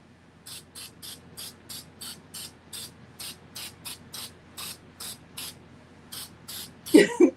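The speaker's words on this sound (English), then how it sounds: "Let me spray a little more then." Short hissing bursts from a spray paint can over a Mylar stencil on a welcome mat, about eighteen in an uneven rhythm, quiet and close, ending with a louder rattle or clunk.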